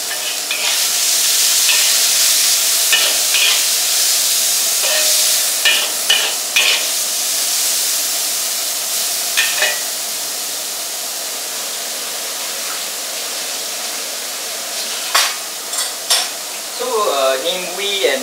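Vegetables for a plain fried rice being stir-fried in a hot pan, a steady loud sizzle with scraping stirs and clinks of the utensil recurring throughout, louder scrapes near the end.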